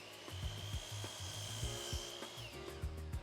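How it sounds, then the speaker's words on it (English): Wood being cut with a power tool in a theatre wood shop, a steady whining motor drone with repeated rhythmic thumps and rasping bites into the wood, close and continuous with no talking. "we cut wood"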